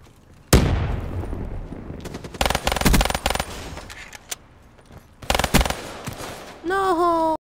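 Gunfire in the shooter game Black Ops 3: a sharp opening blast followed by rapid bursts of shots separated by short pauses, loud and close, ending in a rising electronic tone.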